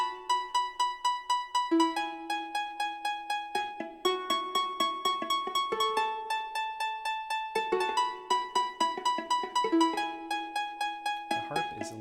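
An instrumental arrangement plays: plucked pizzicato viola, harp, double bass and cello over drums, with steady repeating plucked notes and sustained bass tones in a clear, moderately loud mix, no voices.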